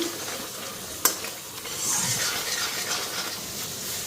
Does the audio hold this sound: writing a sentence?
no